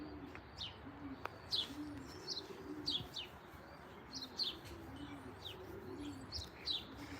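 Young racing pigeons kept in a loft inside a batting cage coo softly and repeatedly, mixed with frequent high chirps from nearby birds over a steady background hiss.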